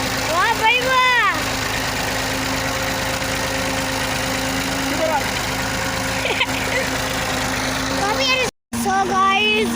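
A tractor engine chugs steadily as it is driven with a trolley attached, a loud, continuous mid-pitched drone with people talking over it throughout.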